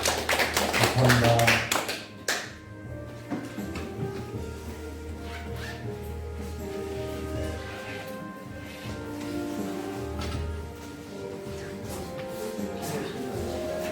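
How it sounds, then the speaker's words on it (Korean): A Korean church congregation at Sunday worship gives a burst of applause to God: dense, loud clapping for about two seconds, then someone speaks over a quieter room. "우리 하나님께 영광의 박수 올리겠습니다"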